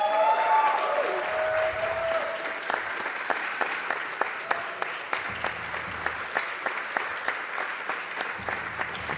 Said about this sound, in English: you guys, you hear the crowd there?